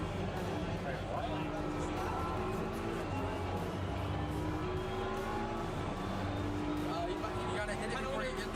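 Racing video game car engine at a TwitchCon booth, a continuous revving drone that rises and falls, heard under nearby voices and busy convention crowd noise.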